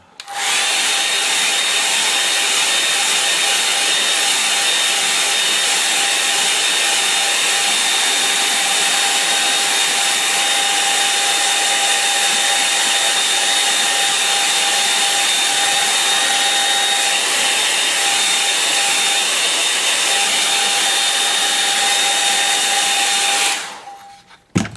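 A hair dryer blows steadily on a watercolour painting, a loud, close, continuous whine with a constant pitch, running unbroken for over twenty seconds before switching off abruptly.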